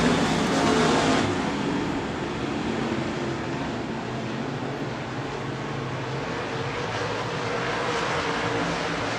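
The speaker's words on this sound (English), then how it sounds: "Mullins chassis, Mullins engine, roars to life, green in the air" A Mullins dirt race car with a Mullins engine roars at the green-flag start of a USMTS race at Lakeside Speedway, a loud, sustained engine blare with crowd and track wash, steady and continuous, no talk.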